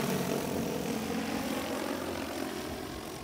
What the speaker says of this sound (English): Now the drone is flying forward.